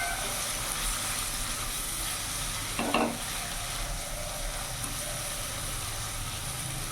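Cumin and coriander powder sizzle steadily in a frying pan, a dense continuous hiss, with one brief scrape of stirring standing out midway.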